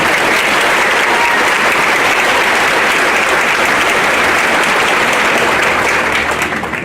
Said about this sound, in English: Let's give these outstanding faculty one more round of applause.